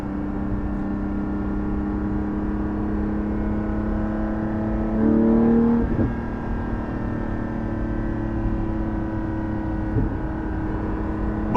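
Inside a Porsche 718 GT4 on the move, the engine and exhaust hum steadily, with a brief rise in revs around the middle before settling back to a smooth, droning cruise.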